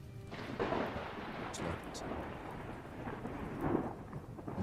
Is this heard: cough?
no